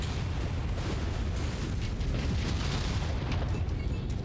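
A Dervish mech in MechWarrior 5: Mercenaries chain-fires its arm-mounted weapons, giving a dense, continuous run of loud booming blasts and rumbling impacts with no speech.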